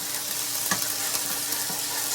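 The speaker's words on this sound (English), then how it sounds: "Stir those together for like 20 seconds." Ginger paste sizzles in a hot pan while being stirred, giving a steady crackling hiss with faint scraping, close and moderately quiet.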